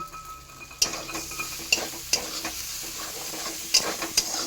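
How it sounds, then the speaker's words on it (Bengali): Spice paste for a Malabar spinach dish fries softly in a pan over lowered gas while a spoon stirs it, giving a quiet sizzle broken by several sharp scraping clacks against the pan. "মশলাটা আমার ভাজা হয়ে গেছে"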